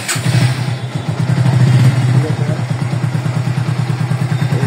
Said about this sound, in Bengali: দেখি স্টার্ট করবো বাইকটি